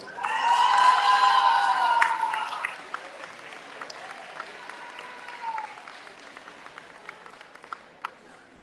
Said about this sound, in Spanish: un fuerte aplauso a nuestro siguiente panelista, el doctor Leonel Pérez Expósito